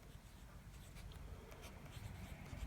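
A Visconti Mirage fountain pen with a steel broad nib writes on paper, giving a soft, steady scratching that runs continuously and close by, with no talking.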